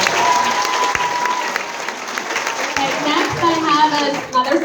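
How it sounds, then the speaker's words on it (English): A large event crowd breaks into loud, sustained applause, dense clapping that swells and holds, with some voices underneath near the end. "Let's give him another round of applause"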